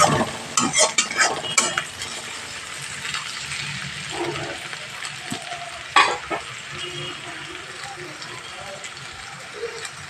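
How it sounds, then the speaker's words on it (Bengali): Onion and green chilies stir-frying over medium heat for a fish and vegetable curry, with a steady close sizzle, scattered scraping stirs and utensil clinks, and brief talk over it. "কাঁচা লঙ্কাটা দিয়ে দিলাম দিয়ে ভালো করে পেঁয়াজ লঙ্কাটা ধীরে ভেজে নিতে হবে"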